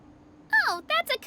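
A chirpy, bird-like call from a cuckoo soar in Genshin Impact: a quick rising-and-falling whistle followed by two shorter bursts, moderately loud and alone.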